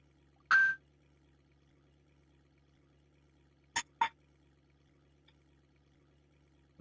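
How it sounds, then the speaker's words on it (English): A phone knocking against a fork on a dinner plate: a sharp metallic clink near the start, then two quick clatters a few seconds later, close by in an otherwise quiet room with a low hum. "To grab my phone, which was sitting on my dinner plate there, and hit the fork."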